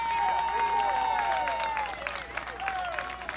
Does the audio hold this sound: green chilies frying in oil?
no